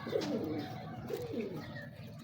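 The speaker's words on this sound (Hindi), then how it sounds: "हालांकि ये क्रॉस कबूतर है, पर ये कमगरों के बहुत करीब है।" Crossbred pigeons give soft, throaty coos in two short bursts, close by and fairly quiet over faint background noise.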